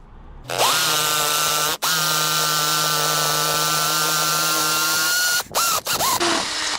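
A power drill fitted with a 16mm DeWalt bit bores a hole while a bracket is mounted for a CB radio antenna mast, a loud sustained whine that dips briefly once, then ends with a few short revving bursts.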